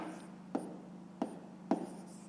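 Pen on paper writing a fraction by hand for a fifth-grade maths exercise: three short, quiet scratching strokes spaced roughly half a second apart over a faint steady room hum.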